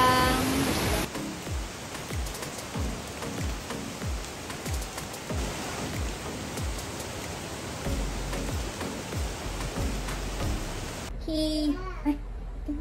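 Steady hissing rain at a resort in Puerto Galera, Mindoro, fills the scene throughout, and a voice speaks briefly at the very end.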